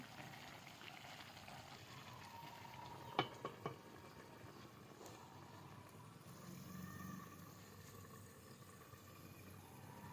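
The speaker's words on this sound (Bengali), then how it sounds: "এই তো আমি আলু ভাজি রান্না করছি" Potatoes for aloo bhaji fry in a pan with a faint, steady sizzle. A few quick utensil clinks cluster near the middle, and the kitchen is otherwise quiet.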